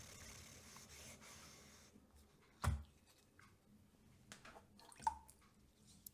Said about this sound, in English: Turning around the flattening stone, trying to use all the surface.